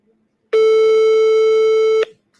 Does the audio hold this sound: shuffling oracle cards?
no